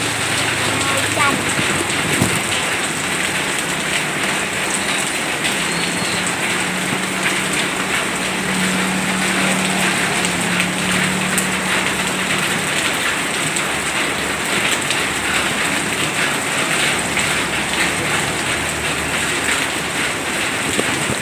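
Heavy rain pours down steadily and loudly, a continuous dense hiss of drops on surfaces, with a faint low hum passing underneath partway through.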